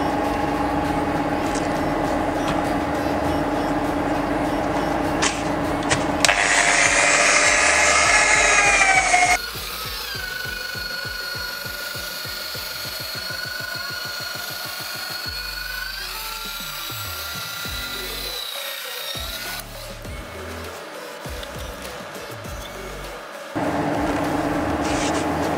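A polishing machine buffs a surface, giving a steady motor whine that shifts in pitch and loudness across several distinct stretches as pressure and contact change, with no talking heard.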